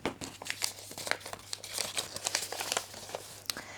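Paper being crinkled and pulled out of a small ball during a question game, a series of close, sharp crackling and rustling bursts spread over a few seconds with no talking.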